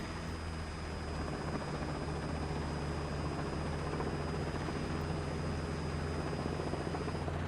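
A helicopter engine with throttle and governor off keeps a steady low drone and turbine whine, heard from inside the cabin with no speech.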